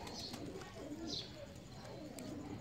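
Soft pigeon coos murmur close by in a quiet pigeon loft, with a brief higher chirp or two over low background noise.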